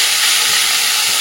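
Spice paste of ground coriander, ginger, cumin and green chilli hitting hot oil with whole cumin, a loud steady sizzle and hiss filling the whole moment without pause.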